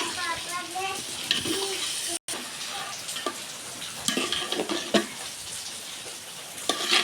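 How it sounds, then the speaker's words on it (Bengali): Rice, lentils and nuts being stirred and fried in a pan for spicy khichuri, a soft sizzle under frequent scraping and clinking of a utensil against the pan, with a brief dropout early on. "এবার ভালোভাবে নাড়াচাড়া করে নিচ্ছি"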